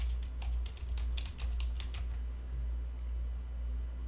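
Someone types on a computer keyboard while entering data into accounting software. Quiet, irregular clicks come in quick bursts and then thin out, over a low steady hum.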